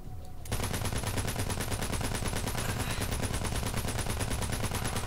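Enemy gunfire in the Borderlands 3 video game, starting abruptly and continuing as a loud, unbroken rapid-fire machine-gun stream with a fast, even rattle for several seconds.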